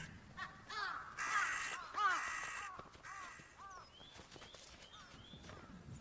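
A mob of crows caws in the snowy Hokkaido wilderness near a deer carcass, several harsh overlapping calls in quick bursts, then scattered fainter caws at a moderate distance.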